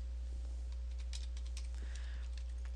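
Light typing on a computer keyboard, a quick run of soft, close key clicks at a steady pace in a quiet room, ending with one sharper tap.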